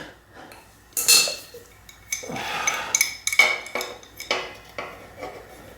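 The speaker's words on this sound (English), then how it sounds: "screw this in here carefully, not to cross thread it" A threaded part is screwed into a damaged Specialized Allez bike frame, producing sharp metallic clinks and scrapes in irregular bursts, close and fairly loud, with no talking.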